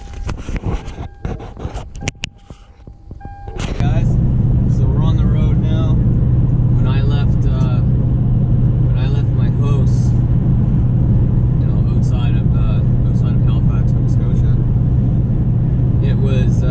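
A high-mileage Toyota Tundra pickup, at about 250,000 miles, pulls onto the road. After a few seconds of rustling and clatter, a steady low engine and road drone settles in and holds, with someone talking over it.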